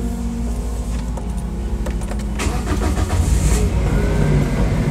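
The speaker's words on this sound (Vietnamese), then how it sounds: "bây giờ mình sẽ nổ máy lên cho các bạn nghe thử tiếng máy nhé." A Kenbo five-seat van being started up: a starter crank and ignition clicks, then the engine catches and settles into a steady close idle with rising fan noise.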